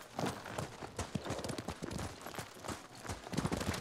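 Horse hooves clip-clop in the video game Ghost of Tsushima, a steady rapid trotting rhythm of quick hoof strikes that continues throughout at moderate loudness, with no voices over it.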